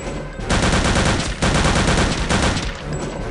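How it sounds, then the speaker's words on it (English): A submachine gun fires in sustained loud automatic bursts with short pauses between them during a firefight in the first-person shooter game Return to Castle Wolfenstein. "Might as well get out our submachine gun"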